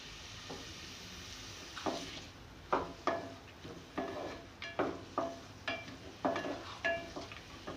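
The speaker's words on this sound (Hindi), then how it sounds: "मैं इसे सौटे कर लूँ" Onions, garam masala and whole coriander seeds sauté for keema in a pan, with soft sizzling under a steady run of spoon scrapes and stirring knocks, close and fairly quiet, with no talking.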